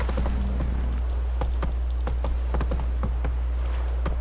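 Roach, the horse in The Witcher 3, trots at a steady pace with crisp, evenly spaced hoof clip-clops, close and fairly loud, over a low constant hum.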